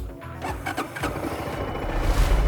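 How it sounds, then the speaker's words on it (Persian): An electric starter whirs briefly, then a motorcycle engine catches and rumbles into a steady idle close by. "و موتور رو با این دکمه استارت میزنید."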